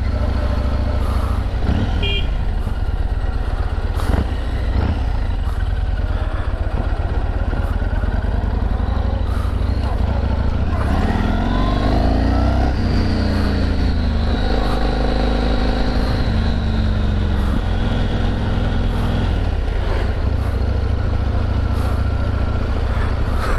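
A Yamaha MT-01 1670cc motorcycle is ridden with a loud, unbroken engine drone mixed with wind rush. Its pitch sweeps up and down as it accelerates midway, and the noise stays close and constant throughout.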